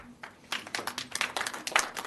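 Audience clapping at an Encinitas, California city council meeting on a 5G protective ordinance, a short burst of scattered hand claps from a small group, starting sparse then thickening, fairly soft and indoors.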